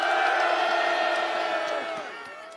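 A large crowd at a rally against a presidential impeachment on a cold winter street in Yeouido, Seoul, shouting together in a loud sustained roar, with harmonic voices fading toward the end.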